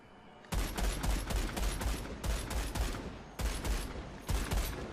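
A full-auto sniper gun fires in a video game in dense, loud bursts of rapid shots, four or five strings separated by short pauses.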